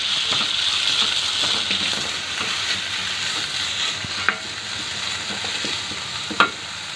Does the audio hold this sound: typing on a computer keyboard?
no